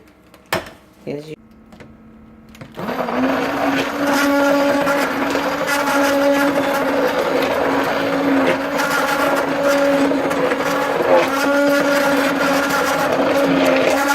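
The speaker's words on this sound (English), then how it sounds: "Keep on blending if your stick blender can." A few faint knocks, then a stick blender whirs on and runs steadily and loudly at a constant pitch to the end, mixing liquid castile soap.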